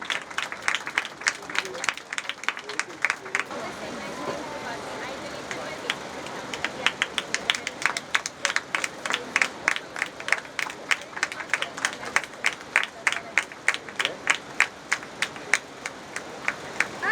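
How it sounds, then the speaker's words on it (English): Audience applause at an inaugural function for the Green Ivy event, scattered claps that thin into separate hand claps standing out over a murmuring hall with some voices in the background. "a big round of applause for Mr. Binoy"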